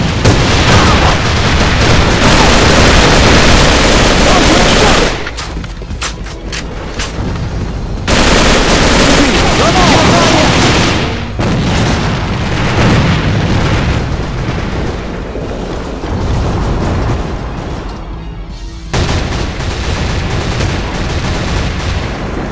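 Gunfire and grenade blasts in the shooter game A.V.A, loud sustained volleys of shots with heavy booming explosions and brief pauses between bursts.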